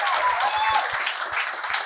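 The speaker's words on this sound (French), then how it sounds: "Et là, on va les applaudir." An audience applauds with dense, steady clapping for about two seconds, with faint voices mixed into the crowd noise.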